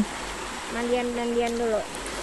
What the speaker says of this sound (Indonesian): nggak jauh dari situ ada sungai sungainya jernih banget